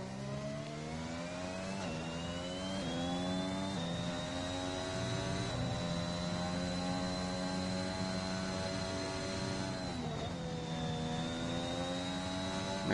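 A Formula 1 car engine in a racing video game league race at the Hungary circuit wails at high revs, a loud, continuous harmonic whine that shifts pitch with each gear change and throttle lift.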